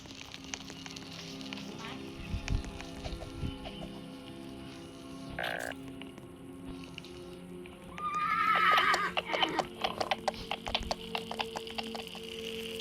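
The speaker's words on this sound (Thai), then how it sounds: "เสียงม้าเหรอ" A horse neighs in the Roblox video game, a loud whinny rising clearly out of a busy game soundscape with clopping hooves and clicking effects, then a crackling burst afterward.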